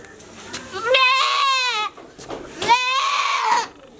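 A goat bleats twice in long, wavering, nasal cries, each lasting about a second, loud and close with a short pause between them and faint background noise.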